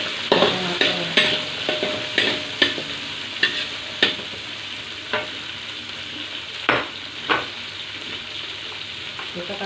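Red and green chili with tomato being stir-fried in a pan for a Chinese cabbage dish: a steady broad sizzle broken by repeated sharp scraping clacks of a spatula, close and fairly loud, with no voices.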